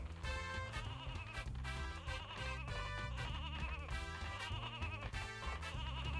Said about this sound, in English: we can press B for sheep noise